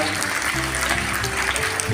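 An audience at a school lecture claps in a dense, steady round of applause that fills the whole stretch, with faint voices mixed underneath.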